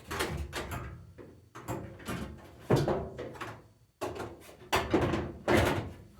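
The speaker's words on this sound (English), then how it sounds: "I get the door open here." The door of an LG washing machine is handled and swung during a gasket repair, giving several clunks, rattles and thumps in uneven bursts with short pauses between them, close and fairly loud.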